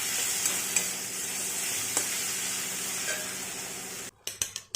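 Spices such as turmeric, coriander powder and garam masala being stirred into frying fish curry for dohi katla, a steady close sizzle with faint utensil scrapes, ending in a few sharper clatters.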